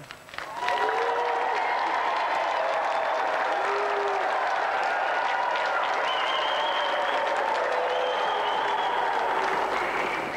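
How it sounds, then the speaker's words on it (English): A TV game show studio audience breaks into sustained, loud applause that starts abruptly and keeps going steadily, with some cheers mixed in. "give him a round of applause"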